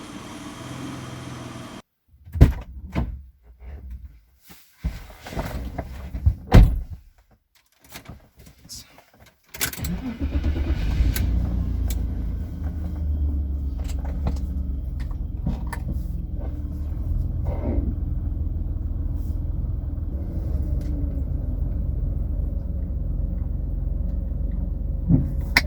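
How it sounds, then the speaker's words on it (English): Inside a BMW E32 735iL, door and cabin clunks and handling noises come first, then the engine starts and a steady low car rumble continues for the rest of the clip. "Okay, so I'll go take it for a drive."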